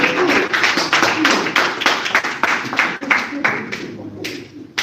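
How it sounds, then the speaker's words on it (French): An audience at a press conference claps to welcome a speaker, a dense, steady burst of many hands filling the room, fairly loud and close, tapering slightly toward the end. "M. Bertrand Sordoté, nous acclamons s'il vous plaît. Il va nous applaudisser."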